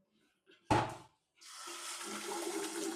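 Water from a kitchen tap gushes during dishwashing, starting after a short knock and clatter and then flowing steadily and hissing close by, with no talking.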